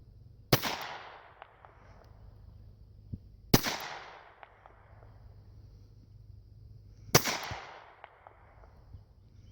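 A woman fires a pistol on a range in three sharp, spaced gunshots about three seconds apart, each with a short ringing decay, plus faint clinks of shell casings between shots.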